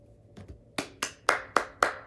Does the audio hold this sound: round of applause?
yes